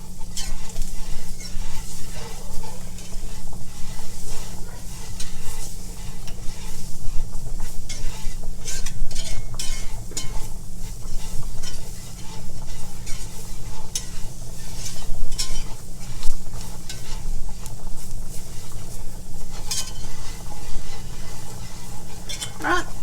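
Potatoes sizzle steadily in oil in a pan while being stirred, with scraping and clinks of a utensil against the pan over a constant low hum, no talking.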